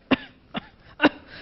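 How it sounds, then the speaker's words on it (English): Three short, forced coughs, one after another, close and dry, with brief silent gaps between them. "or you fake a cough like"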